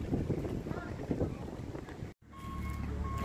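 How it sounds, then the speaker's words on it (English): Big gust of wind buffeting a microphone outdoors at a woodland expo campsite, a loud broadband rumble that roars continuously, briefly cuts out, then resumes steadily. "here comes another big gust."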